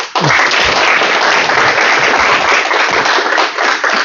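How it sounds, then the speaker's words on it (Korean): An audience bursts into loud, sustained applause to welcome a speaker at a Korean seminar on hospital business and asset succession, steady clapping filling the whole stretch without voices. "박사님 준비 다 되셨으니까 큰 박수로 모시겠습니다"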